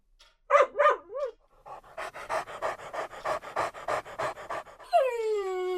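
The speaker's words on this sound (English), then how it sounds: "The dog had made its way upstairs and proceeded to yelp at each door it found." A dog's high yelps open the scene, then rapid, rhythmic panting runs for several seconds, close and clear, before a drawn-out whine rises at the end.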